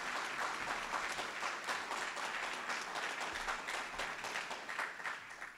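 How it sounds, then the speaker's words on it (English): A hall audience gives President Mullen a warm round of applause at the Allegheny College Hall of Fame induction ceremony, with dense, even clapping sustained throughout and easing slightly at the close. "One last round of applause for him"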